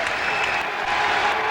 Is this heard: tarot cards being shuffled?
no